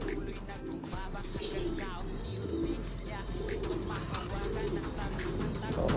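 Tame racing pigeons coo softly against a steady low rumble, with occasional chirps and voices talking in the background.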